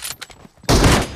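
A sniper rifle shot rings out in a team deathmatch video game, one loud, sustained blast arriving after a stretch of quieter, choppy game sounds.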